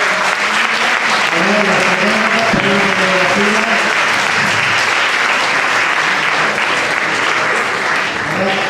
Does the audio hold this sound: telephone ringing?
no